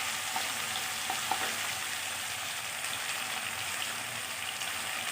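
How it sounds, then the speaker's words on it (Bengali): Turmeric being stirred into frying drumstick (moringa) and potato curry, a dense, even sizzle that holds steady throughout with a few faint utensil clicks. "হলুদটাকে খুব সুন্দর করে মিশিয়ে নিলাম"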